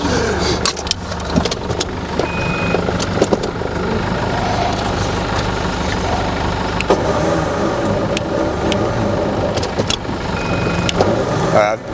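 Four-wheel-drive vehicle idling steadily in reverse while its steel winch cable is being respooled, a continuous loud engine drone with small clicks and faint mechanical whines throughout.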